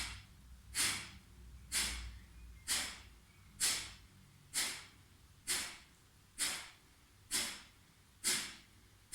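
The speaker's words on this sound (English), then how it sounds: "Taking a deep breath in" Deep, forceful breaths repeat in a steady rhythm about once a second, each a close, airy whoosh with a sharp onset that fades, nine in a row with no talking, as in a breathing exercise.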